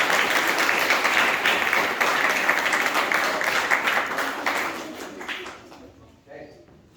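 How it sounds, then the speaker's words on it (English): A graduation audience breaks into a big round of applause, dense and loud clapping from many hands that tapers off near the end, leaving faint voices. "Give these 2 a big round of applause."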